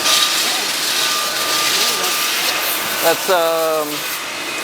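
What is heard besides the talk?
machining machine running in motorcycle factory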